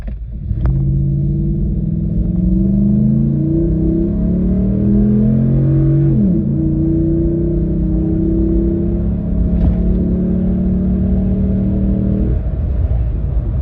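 A Ram 1500 pickup fitted with a K&N cold air intake revs repeatedly, its engine note rising and falling in smooth sweeps with a steady low rumble throughout, loud and close with no talking.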